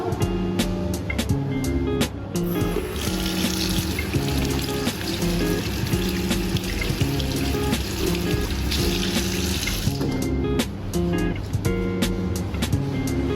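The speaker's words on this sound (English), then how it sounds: "you guys don't forget to wash your hands" Running tap water while hands are washed before making onde-onde, a steady wash of water layered over a continuous tonal musical backing throughout.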